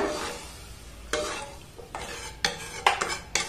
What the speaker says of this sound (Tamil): நல்லா ஒருக்கா மிக்ஸ் பண்ணிடலாம், கட்டி தங்கிட விடாது